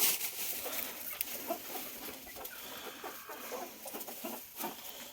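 Hens in a coop cluck softly and intermittently, with faint scattered calls and rustling rather than any loud outburst.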